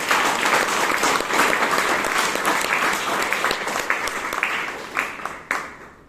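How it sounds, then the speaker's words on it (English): Toastmasters meeting audience in Bangalore giving a big round of applause, dense clapping from many people that holds steady, then thins to a few scattered final claps. "Let's have a big round of applause for Major Somnath Sharma."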